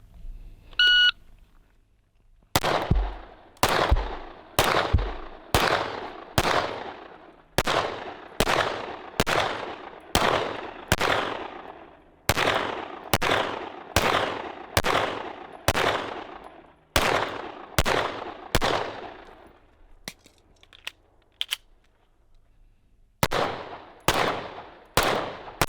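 Pistol shots fired in a Dot Torture accuracy drill on a range: a long run of sharp, loud cracks in steady rhythm, grouped in strings with brief pauses, a longer gap near the end, then a final pair of shots.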